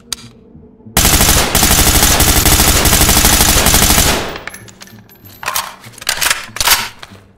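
Rapid automatic gunfire from a gun being test-fired in the video game Ready or Not, a loud sustained burst of about three seconds followed by scattered single shots and clatter.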